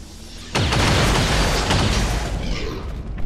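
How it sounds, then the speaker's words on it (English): A loud barrel explosion in the video game XCOM 2 erupts after a half-second lull into a sustained, roaring boom that slowly decays with crackling debris. "we can in fact follow that up with yet another explosion, as the Muton here is standing awfully close to a barrel."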